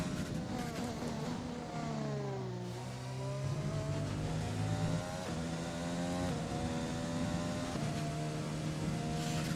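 An F1 2020 race car engine in a racing video game, high-revving with rising and falling pitch through upshifts and downshifts, steady and continuous, with no speech.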